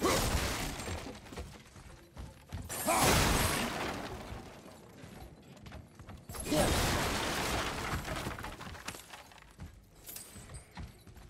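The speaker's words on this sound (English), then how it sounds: "There's a machine with gears and rope by that torch." Creaking, ratcheting gear mechanism with rope in the mountain interior of God of War, two loud grinding surges separated by quieter mechanical clatter, with no talk.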